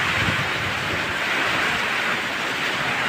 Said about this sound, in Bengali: এমন তুফান আসছে